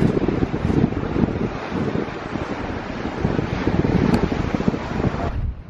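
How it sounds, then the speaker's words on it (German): Seaside wind on the Mediterranean coast facing Gibraltar buffets the microphone in a steady, loud roar for several seconds before dropping away near the end, with no voices. "Bisschen Wind ist schon, mal schauen, ob es reicht."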